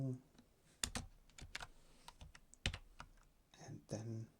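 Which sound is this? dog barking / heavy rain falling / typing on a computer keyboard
typing on a computer keyboard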